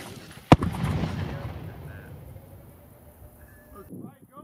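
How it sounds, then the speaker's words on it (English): A dud homemade mortar round set off by small-arms fire gives one sharp, loud report near the start, then a rumbling outdoor decay that fades over several seconds while faint voices murmur in the background. "we decided to detonate it via small arms fire"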